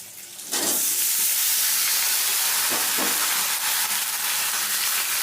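Chopped, washed mixed vegetables for a Bengali pachmesali torkari hit a hot pan of onions and spices, bursting into a loud, sustained hissing sizzle with a few stirring scrapes.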